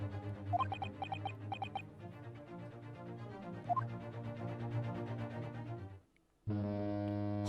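A steamship horn in The Great Ace Attorney Chronicles sounds before the ship sets sail: tonal game music plays, drops briefly to near silence, then one loud, sustained horn blast holds steady to the end.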